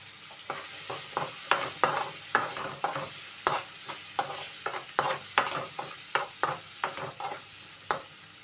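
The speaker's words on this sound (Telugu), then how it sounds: "ఇప్పుడు మనం క్యాప్సికమ్ వేసుకుందామండి." Capsicum stir-fried with cooked tomato in a pan, a spoon scraping and stirring in a steady run of sharp clicks and knocks over a soft, continuous sizzle, close and fairly loud.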